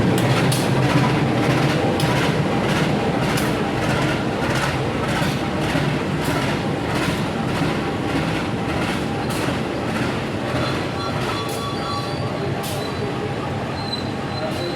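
The Serayu night train hauled by CC203 locomotive rolls past with rhythmic clickety-clack wheel beats over rail joints, a steady rumble continuing throughout with some voices faintly present.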